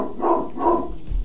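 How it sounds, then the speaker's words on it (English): A dog barks twice at close range, two full, loud barks about half a second apart, with a brief scuffle of low noise afterward and no talking. "Good dog."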